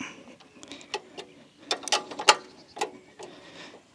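A spanner works a nut loose on a Cobra Fortis 17E cordless lawnmower, giving a few sharp metallic clicks and ratchet-like ticks in uneven bursts, close and clear with no talking.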